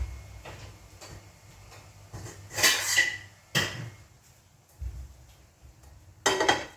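Metal pots and pans clank and rattle in a few separate bursts of rummaging, with quieter shuffling and knocks between them, close by.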